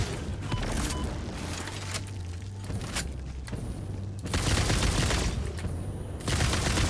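A gun firing in Satisfactory, heard as bursts of rapid shots separated by brief gaps, each burst a broadband crackle over low thumps, moderately loud and fairly close, with no voice in between.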